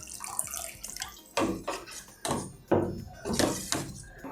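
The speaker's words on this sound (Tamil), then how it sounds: "கொஞ்சம் தண்ணி விட்டுக்கலாம்" Water poured into koozhu dosai batter in a mixing vessel, heard as several short splashing pours in quick bursts, close and fairly loud with no talking.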